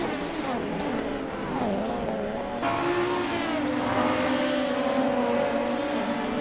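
Touring race cars at speed, with a Nissan Sentra tucked into the slipstream, give off a steady, loud engine drone whose pitch climbs and shifts as the cars accelerate and pass, with no pause in the noise.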